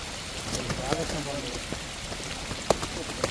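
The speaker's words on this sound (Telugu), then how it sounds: "మంచి టైంలో వాన పడుతుంది" Rain patters steadily on a surface with scattered sharper drops, and a voice speaks briefly beneath the downpour.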